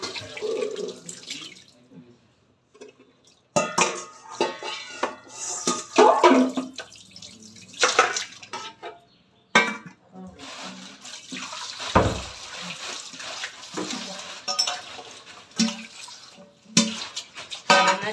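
Something is washed by hand in water and rinsed over and over, with bursts of splashing and running water alternating with quieter pauses. A voice is briefly heard.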